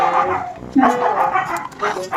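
Dogs barking and yipping nearby in short bursts that mix with a person talking over them.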